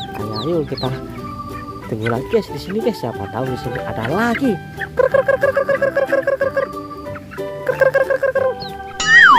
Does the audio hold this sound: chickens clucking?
yes